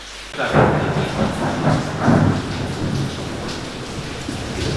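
A low, rolling thunder rumble from storm clouds swells twice over steady rain, loud and close, with no talking.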